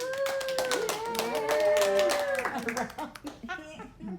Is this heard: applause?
yes